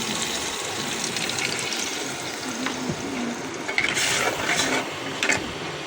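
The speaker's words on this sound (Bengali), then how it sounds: "পানি দিয়ে দিই" Water is poured into a cooking pot holding shrimp, a steady broadband rush and splash that runs throughout with a few louder bursts near the end, close by and with no talking.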